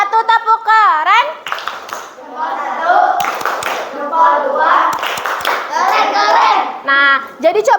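Group 1 of a school class performs a rhythmic clapping cheer in the classroom, sharp hand claps in patterned bursts mixed with children's chanting voices, close and fairly loud over about eight seconds.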